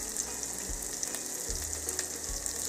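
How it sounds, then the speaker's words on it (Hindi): Roughly chopped small onion sizzles in a pan with garlic for a creamy white sauce pasta, a steady close frying hiss with occasional crackles and light stirring, no speech. "एक छोटा प्याज यहाँ पर रफली चॉप करके डाल देंगे।"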